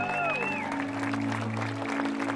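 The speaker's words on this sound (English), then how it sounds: "Give yourself a round of applause." Participants at an Out of the Darkness suicide-prevention walk break into a burst of clapping, a rustling crowd texture mixed with a steady hum and a few scattered voices.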